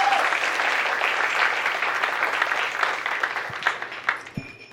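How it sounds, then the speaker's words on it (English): A school-night audience applauds a student panel taking the stage, with dense clapping that starts strong and gradually thins into scattered claps before fading out. "please give our student panel a round of applause as they take the stage."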